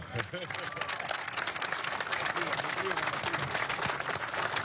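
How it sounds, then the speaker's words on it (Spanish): Crowd applause at an outdoor event for the rehabilitation of the Batalla de Carabobo water complex, dense clapping sustained throughout and mixed with background voices and noise. "Habla bonito, un aplauso."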